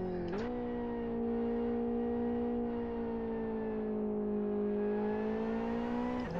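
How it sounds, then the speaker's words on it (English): Race car engine in the Live for Speed driving game, a steady droning whine that rises and dips slightly with throttle, fairly quiet and alone. "I actually like the sound of the car."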